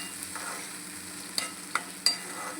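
Spoon stirring ground paste into a masala in a hot pan, a soft sizzle underneath with a few sharp scraping clicks of the spoon against the pan, close and fairly quiet, with no voices.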